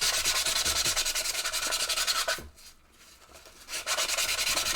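A crumpled aluminium foil ball is sanded by hand in rapid, rhythmic back-and-forth rasping strokes, loud and close, with a short pause before the sanding resumes.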